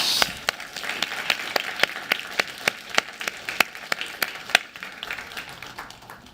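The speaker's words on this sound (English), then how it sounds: "So let's have one final big round of applause for our 8 finalist teams" Sparse clapping from a small audience at a health care innovation challenge for the finalist teams, a run of distinct, evenly spaced claps that thins out toward the end.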